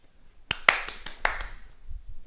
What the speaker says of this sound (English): So bounce, clap and catch.